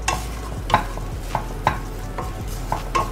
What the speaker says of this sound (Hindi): खूब अच्छे से अब हम इसे मिक्स करेंगे, बहुत ही अच्छे से